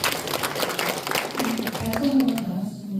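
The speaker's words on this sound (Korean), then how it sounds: "박수 부탁드립니다." An audience at a public district meeting in Dalseong-gun, Daegu, gives a short burst of steady clapping lasting a couple of seconds before it thins out, with a voice speaking over it.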